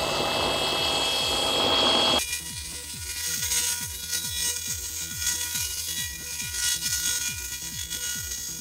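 A polishing machine spun up to 3000 rpm for car paint work, a loud whooshing rush that settles into a steady motor whine with a rhythmic pulsing hum, close by.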